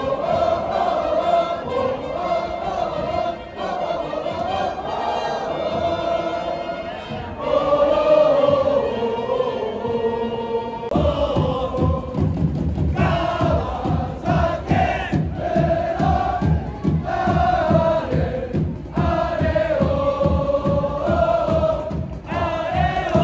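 Fans at a Japanese football match chanting in unison, a loud rhythmic crowd chant with steady repeated beats and drumming, rising into fuller, punchier chanting partway through and continuing without pause.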